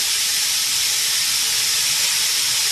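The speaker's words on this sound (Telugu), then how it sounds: "ఇప్పుడు మనము మటన్ని ఆయిల్ లేకుండా ఫ్రై చేసుకోవాలి మటన్ కీమాని" Mutton keema fries in a hot pan without oil, making a steady, loud, continuous sizzling hiss that does not let up from start to finish.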